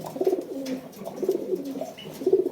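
Fancy pigeons coo loudly and close in a collection loft, throaty rolling calls repeating in bursts about once a second, with no voices over them.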